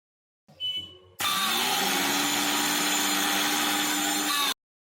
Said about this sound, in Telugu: వెల్లుల్లిపాయలు నలగగొట్టి మిక్సీలో పట్టాలి.